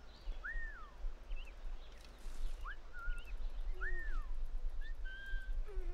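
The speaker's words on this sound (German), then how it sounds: "Pfeifen." A character whistles in the pirate video game Assassin's Creed 4: Black Flag, several short rising and falling whistle notes spread over a few seconds above a low, steady ambient rumble.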